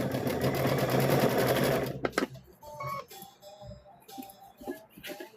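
A sewing machine stitches a quilt block in a fast, even run for about two seconds, then stops; soft clicks and thread and fabric handling noises follow.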